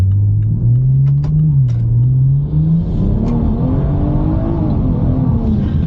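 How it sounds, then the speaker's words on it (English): Loud, close engine rumble of a tuned car on drag radials accelerating hard, revs climbing steadily inside the cabin with a low continuous drone; tire spin is not distinctly audible. "my tires are actually spinning just a little bit"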